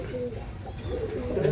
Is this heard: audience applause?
no